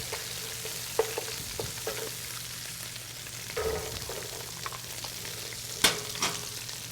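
Onions and carrots sizzle in a hot pan where lobster shells have been browning for a stock, a soft continuous frying hiss with occasional light stirring clicks and scrapes.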